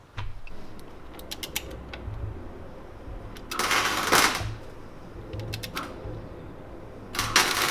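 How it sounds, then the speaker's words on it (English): A torque wrench tightening a bolt on a Subaru engine during an oil pressure light repair, heard as quick bursts of fast ratcheting clicks with pauses between them, close up and with no talking. "let's torque that"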